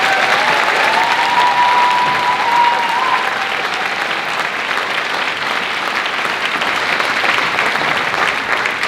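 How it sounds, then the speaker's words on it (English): Sustained audience applause at a gala concert after an opening performance by two marimba bands, a dense steady wash of clapping from a large crowd filling the hall throughout. "Let's give them another round of applause"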